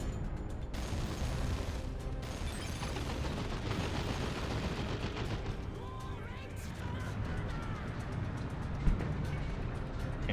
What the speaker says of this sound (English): Heavy bolter turret will suppress and damage infantry